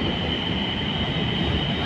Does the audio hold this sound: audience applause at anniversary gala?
no